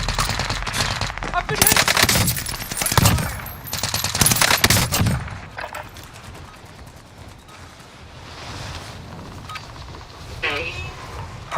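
Enemy soldiers' machine-gun fire in a war video game rattles in loud, rapid bursts during the first half, then eases into quieter background noise as voices speak.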